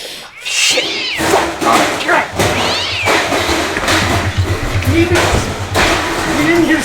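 A cat meows several times in a room where people talk loudly during a recorded podcast-style discussion, its drawn-out cries rising over the voices.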